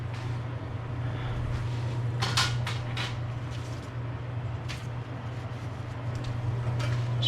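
A pan knocks and scrapes a few times on a kitchen stovetop while cooking calzones. The short clanks come sporadically over a steady, droning hum from the stove or a fan.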